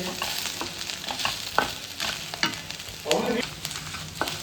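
Dried red chillies fry and crackle in a pan for a ginger chutney, with a steady close sizzle broken by several short scraping stirs.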